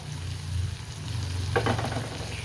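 Chicken gravy fries in a pan with a soft, steady sizzle and a brief stir partway through.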